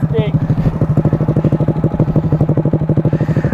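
A Grom motorcycle ridden fast around a grass track, its small single-cylinder engine close and loud with a rapid, even throbbing pulse throughout.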